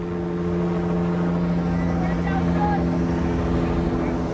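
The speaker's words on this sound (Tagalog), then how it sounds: "Sinusunto na ako ng helicopter." Steady rumbling drone of a helicopter overhead on a cold day near the Rocky Balboa steps, a constant engine and rotor hum without break.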